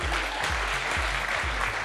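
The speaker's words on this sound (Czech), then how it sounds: "To stojí za potlesk." Brief burst of applause from an audience at a live talk show event, steady clapping over a rhythmic musical beat.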